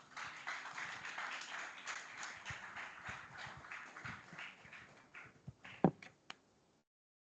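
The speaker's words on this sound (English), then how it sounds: "Let's welcome him with a round of applause." Audience applause welcoming a guest of honor at a Ghana Armed Forces lab commissioning, a moderate round of clapping that thins out and ends in a few scattered claps.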